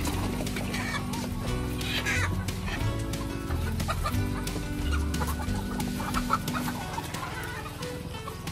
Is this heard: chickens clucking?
yes